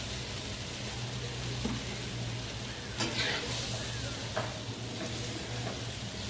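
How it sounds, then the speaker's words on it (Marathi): Gram flour batter for pithla sizzles in a hot tempering with turmeric, a continuous hiss with occasional faint clinks and stirs, and no one talking over it. "फोडणीला दिली आपण पिठलं."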